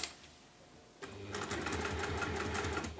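A sewing machine stitching a waxed canvas tote bag: after a brief quiet start, a rapid, steady mechanical clatter of the needle runs continuously at close range, fairly soft overall.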